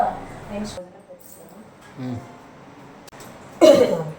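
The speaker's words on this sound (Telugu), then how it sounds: "దగ్గు తగ్గడం లేదు" A person with a lingering cough coughs in a home, a few short bursts between quiet stretches, the loudest near the end, with some talk around it.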